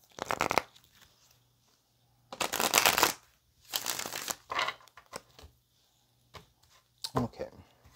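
Tarot cards being shuffled in several bursts, a riffling flutter followed by softer bridging and slides, close by with quiet pauses between.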